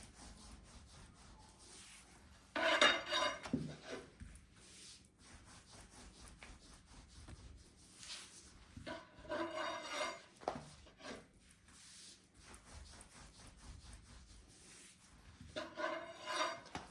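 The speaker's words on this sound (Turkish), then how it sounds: "Çıtır çıtır olması için ince açalım hamurumuzu." Pastry dough for börek is rolled out thin on a wooden surface, producing soft rubbing, rolling strokes in repeated bursts separated by quiet gaps.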